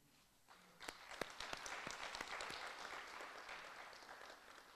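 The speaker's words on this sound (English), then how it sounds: "Please, another round of applause." An audience at a university postgraduate welcome event breaks into applause, a steady wash of clapping that swells after a quiet start and carries on at moderate volume, with a few sharp individual claps standing out.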